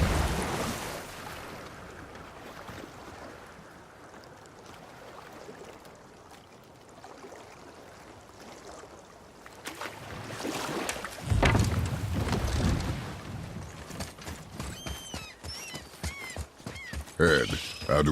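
A boat glides across water in the video game God of War, with steady lapping and a wash of waves and wind, while characters talk over it and the water swells louder near the end.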